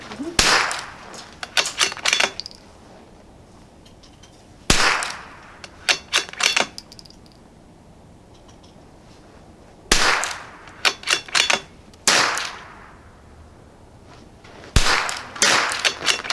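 A Savage B22 precision rifle fires test shots with different boxes of ammo at an outdoor range, giving four loud, sharp cracks a few seconds apart, each followed by clattering handling noise and quieter gaps.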